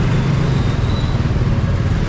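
Dense road traffic in Manila with cars and motorcycles, a loud, steady engine rumble close by that holds evenly throughout with no voices.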